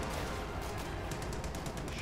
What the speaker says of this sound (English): heavy casualties from the 50 caliber fire